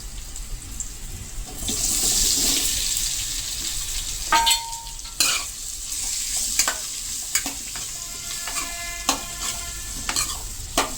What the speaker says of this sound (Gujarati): તેમાં કાંદા નાખી દેશું.